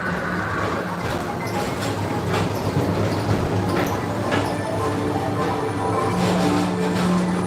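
The Disney TTA PeopleMover ride train rolls along its track with a continuous low rumble and faint rhythmic clicks, close and steady throughout, with no talk over it.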